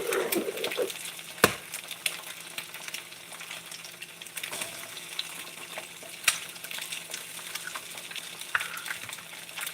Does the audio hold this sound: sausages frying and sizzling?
yes